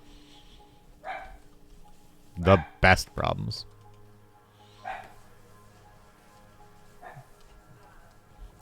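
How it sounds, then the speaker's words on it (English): Dogs barking at something unseen, a few short bursts, one close loud cluster and fainter single barks spaced apart, with someone talking over the background noise. "I don't even know what they're barking at"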